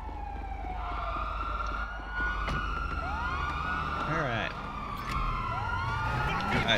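A police car siren wails with rising and falling sweeps in a video game, over steady engine and street noise, with a second, nearer sweep near the end.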